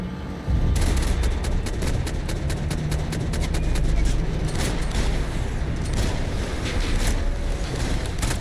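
Gunfire in Max Payne 3, a dense stream of sharp, loud shots and booming reports cracking over a low rumble for several seconds, with no speech.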